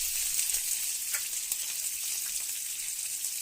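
Chopped onions hiss and crackle steadily in hot oil with curry leaves, a dense, continuous close-up sizzle with small sharp pops throughout and no voices, for a gourd curry.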